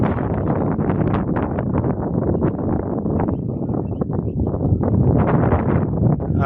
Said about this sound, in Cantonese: 同埋依家好似好大風